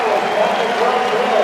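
Wrestling crowd cheering and applauding for a senior in a black Hawkeye singlet at a Minnesota–Iowa dual, steady roar of a large arena crowd with dense clapping, broad and continuous throughout, with speech mixed in.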